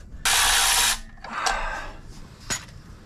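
Power tool driving off clutch pressure plate bolts on a 1982 Ford F150 with a 302 engine, a loud close burst of whirring followed by a softer whir and a couple of sharp metallic clicks.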